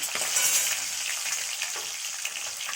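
An egg fries in a pan with turmeric and salt, giving off a soft, even sizzle with light crackles over a few seconds.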